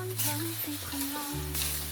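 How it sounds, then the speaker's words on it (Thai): Fried egg tofu stir-fried in a wok with dark soy sauce, a steady close sizzle with scraping and stirring noises throughout. "แล้วก็ตามด้วยเต้าหู้ไข่ที่เราทอดไว้ ก่อนหน้านี้ครับ ลงไปผัดต่อได้เลยครับ"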